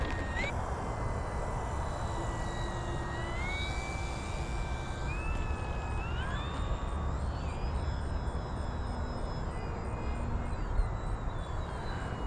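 An FMS PA-18 Super Cub 1700mm RC plane buzzes in flight, its electric motor whine rising and falling in pitch with throttle changes over steady outdoor wind noise, no voices.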